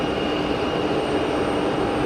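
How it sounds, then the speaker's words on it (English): easyJet Airbus A320 arriving at Geneva from Cagliari, a steady broad jet roar holding at a constant level, with no voices. "In from Cagliari, easyJet"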